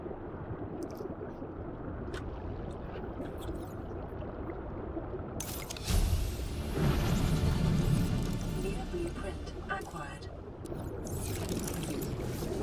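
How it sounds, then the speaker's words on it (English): Purple underwater vents in Subnautica: Below Zero make continuous low watery rumbling and bubbling with a steady ambient wash, swelling louder for a few seconds midway before settling back. "The sound that the purple vents make, so they actually have a sound now."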